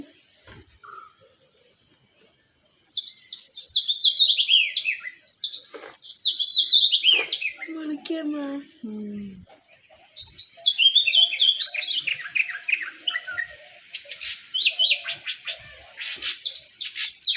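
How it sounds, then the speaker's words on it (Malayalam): A sparrow chirps at dawn near a coconut tree, giving bright, rapid chirps and trills in repeated bursts that sound close and loud, with brief pauses between phrases and no talking. "ഇതാ കുരുവി അവിടെ തന്നെ വന്ന് നിന്നു"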